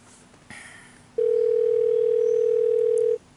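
A single steady electronic telephone tone sounds for about two seconds, loud and clear over faint background noise, then cuts off.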